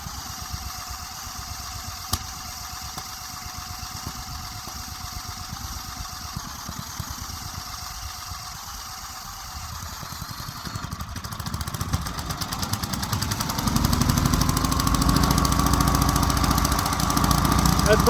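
A small engine, started with a Craftsman starter, kicks in about two-thirds through after a low, quiet stretch, then runs loud and steady to the end.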